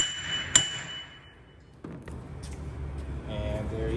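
A hammer strikes the center of a splined shaft on a car, one sharp metallic ring followed by quieter knocking and low workshop rumble.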